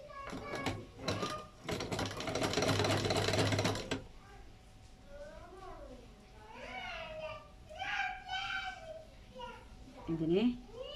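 Sewing machine stitching folded cloth during a home tailoring lesson, a loud dense mechanical rattle for about four seconds, then stopping as someone talks.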